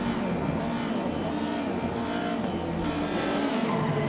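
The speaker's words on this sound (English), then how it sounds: "The lights are up, engines are revving." Race car engines revving together at the start of a BTCC touring car race at Bathurst in a racing game, a loud, dense, continuous roar with rising pitch, no voices.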